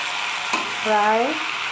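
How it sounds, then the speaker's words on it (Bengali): Chicken meat fries down in a pan for a spicy green-chilli chicken dish, giving a steady close sizzle with a short tonal squeak midway. "মাংসটা কষানো হয়ে গেছে, আর একটু কষবে।"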